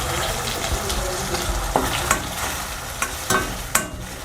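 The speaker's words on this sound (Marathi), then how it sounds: "आपण मोहरीची फोडणी दिली आहे" Mustard seeds crackle in hot oil in a kadhai for tempering, a soft steady sizzle broken by sharp pops and clicks of stirring at irregular intervals.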